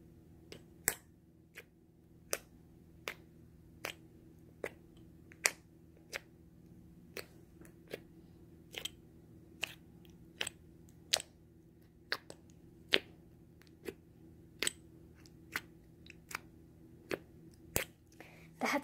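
Homemade slime being squeezed and poked on a table, sharp close snapping pops and clicks at an irregular pace, roughly one per second, over a quiet background.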